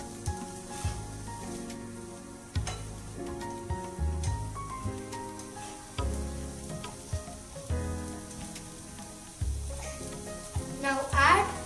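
Chopped onions sizzle and crackle in a hot pan for an omelette, with repeated stirring scrapes and clinks in an uneven rhythm, close and moderately quiet.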